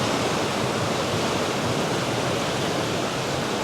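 The River Valency at Boscastle pours past in a dense, unbroken roar of rushing water, loud and close, with no talk.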